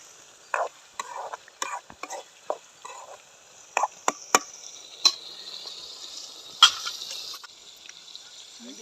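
Fish fry in a pan for a rare homemade fish curry, giving a soft, continuous sizzle broken by clear clinks and scrapes of a utensil being stirred close by, with no speech.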